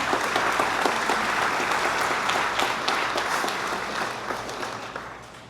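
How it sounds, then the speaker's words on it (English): An audience gives a round of applause, with dense, even clapping held steady and gradually tapering off toward the end. "So let's give them a quick round of applause."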